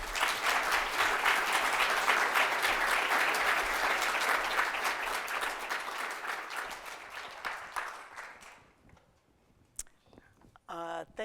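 Audience applause welcoming Dr. Ruth Globus at a talk on rodent research, a dense sustained clapping from a full room for about eight seconds before thinning out to a few scattered claps and near silence.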